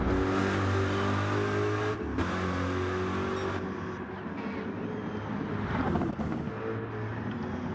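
Gr. 3 Corvette race cars in a racing game at Mount Panorama surge toward the finish line close together, a loud steady engine roar with droning harmonics that shifts in pitch as the cars pass.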